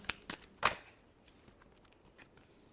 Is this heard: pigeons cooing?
no